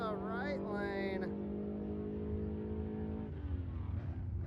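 Stick-shift drag racing cars in the right lane rev and launch side by side, engines rising in pitch then dropping, loud under a voice talking over the run.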